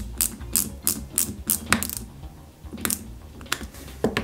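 A small screwdriver drives a screw into a plastic 1/8 scale Hachette model kit of the Ford Gran Torino, giving close, sharp clicking ticks in a quick series, then a few scattered clicks after a pause.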